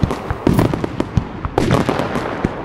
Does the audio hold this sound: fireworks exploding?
yes